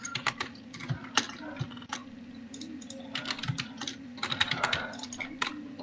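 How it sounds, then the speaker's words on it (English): A computer keyboard clicks in quick irregular bursts of typing during a Minecraft session, close and crisp over a low steady hum. "I can hear you, Jitter, clicking."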